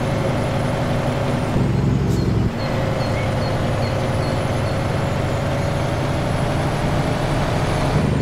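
A heavy truck in a trucking video game, an International Lonestar, with the engine droning loud and steady. It lets out a sharp hiss of air brakes partway through.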